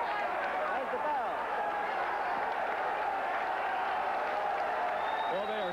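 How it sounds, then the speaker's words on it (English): Boxing crowd in a drill hall cheering and applauding at the bell for a light heavyweight bout, a broad roar of voices heard somewhat distantly, with talk over it throughout. "they are still cheering upstairs in the drill hall"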